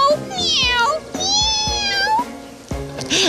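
A person imitates a cat, drawing out several meows in a high, whiny voice, close and loud, with brief other voices mixed in.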